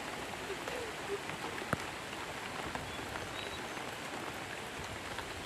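Steady rain patters on a surface at a rural campsite, a dense continuous hiss with scattered drips, no voices.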